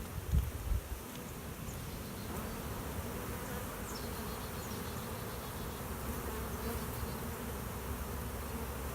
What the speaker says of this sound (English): Just dumped some of the bees inside the box. They're fanning really good.